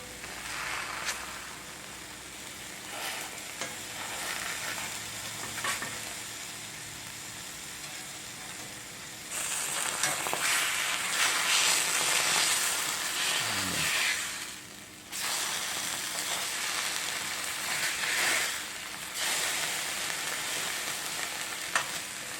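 Bologna slices fry in a skillet with a steady, close sizzle and crackle that swells louder midway, briefly dips, then carries on.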